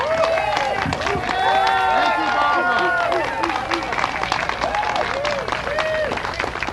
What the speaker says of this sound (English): How about a little bit more of applause for Barbara?